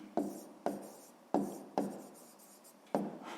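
Pen strokes on paper while solving a sixth-grade geometry exercise: five crisp, separate scratching strokes, each a sharp onset fading quickly, close and quiet with no talk.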